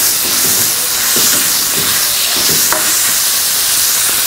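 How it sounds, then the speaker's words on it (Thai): Fermented fish, som pla, sizzles and fries steadily in a pan with sugar as it is stirred, giving constant loud hissing with soft scraping stir strokes underneath and no talking. "แล้วก็คนให้ส้มปลาสุกเนาะ"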